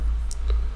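A single mouse click on a checkbox in game-development software, a brief soft tick over a steady low computer hum, with no speech.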